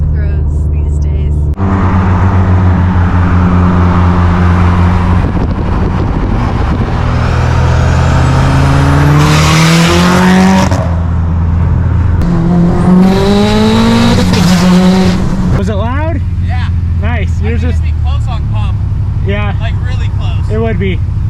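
A loud Mitsubishi Evo engine roars close by, revving repeatedly up and down, with people talking over it at times.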